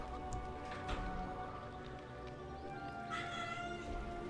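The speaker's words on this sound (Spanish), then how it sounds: "estáis escuchando a mi gato que está aquí maullando" A house cat meows several times in short, close cries over a low steady background hum.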